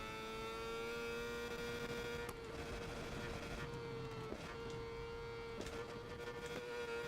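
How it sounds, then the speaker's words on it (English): Racing motorcycle engine in the SBK 22 game, a sustained high-pitched whine that steps down sharply through several quick downshifts, loud and close with faint clicks between gear changes. "Downshifted too many times there."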